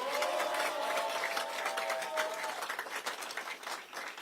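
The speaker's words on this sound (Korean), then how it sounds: "이 의원들께 다시 한번 박수 보내주세요." Applause from a crowd at an outdoor political rally in Daegu, honoring assembly members, forms a steady broadband patter throughout, with a faint tonal whine running through the first half.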